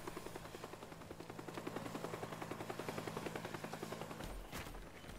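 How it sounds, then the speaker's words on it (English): Two helicopters in the destruction video game Teardown thump with a fast, steady rotor beat and engine hum that fills the scene at even loudness, ending in a sharp crash-like burst. "Man, those are two choppers."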